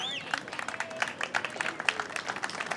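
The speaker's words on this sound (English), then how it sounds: "Round of applause." Crowd applause and cheering along a parade route at an Iwo Jima flag-raising parade in Sacaton, Arizona, with scattered clapping and voices in the crowd.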